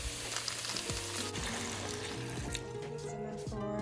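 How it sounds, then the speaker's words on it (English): Cubed carrots frying in a pan, giving a moderate sizzle with stirring, and some low tonal hum running underneath throughout. "Fry the carrots separately for just a couple minutes."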